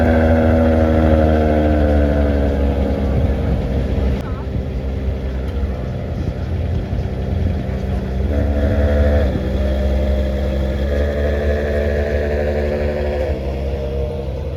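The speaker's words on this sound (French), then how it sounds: "599 GTO qui va démarrer." At an outdoor car meet in Bicester, a Ferrari 599 GTO's engine fires up and settles into a loud, rumbling idle with rising and falling revs, while voices talk in the background.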